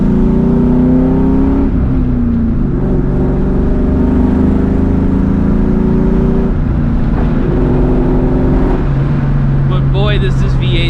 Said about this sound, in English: But boy, does this V8 sound good.